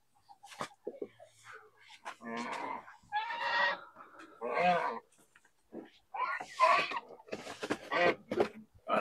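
A broody hen sitting on eggs in a coop gives soft, throaty clucks and murmurs in short irregular bursts, close by, with a voice talking intermittently.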